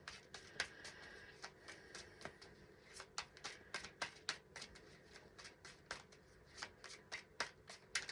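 Someone shuffles a Lightseers Tarot card deck by hand, a rapid run of soft, crisp card riffles and slaps repeating steadily for several seconds at close range, with no talking.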